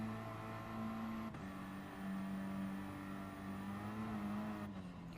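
Race car engine in the Gran Turismo Sport video game during a hot hatch championship race, a steady droning hum with shifting pitch, briefly dipping and rising, moderately quiet with no speech.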